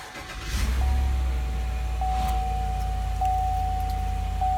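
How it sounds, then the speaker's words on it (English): A 2018 GMC Yukon XL SLT is started with its push button. The engine catches with a low rumble and settles into a steady idle, while a soft warning chime repeats at regular intervals. "It is a push button start vehicle, so with the remote in the vehicle, just put your foot on the brake and hit the button."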